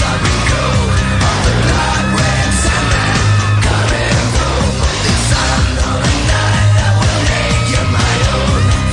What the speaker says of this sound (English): The screaming.